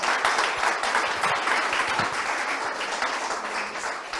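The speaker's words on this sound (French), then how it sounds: "Je vous propose quand même, dès à présent, d'applaudir Djamila." An audience at an awards evening applauds Djamila with steady, dense clapping that holds throughout at moderate loudness and fades slightly toward the end.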